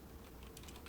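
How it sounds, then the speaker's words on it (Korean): Fingers type on a computer keyboard in a quiet room, producing a quick run of soft, faint key clicks within about a second. "타이핑을 하기가 좀 빡센데"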